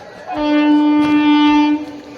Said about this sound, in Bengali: আর আসছে তোমার দত্তপুকুর লোকাল